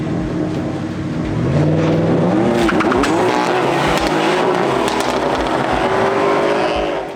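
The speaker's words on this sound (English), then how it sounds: "Unfortunately, the M3 didn't even get to launch properly." A BMW F80 M3 at a drag strip launches hard, its engine note rising loud and close while the tires squeal and skid in one continuous, strained run with no talking.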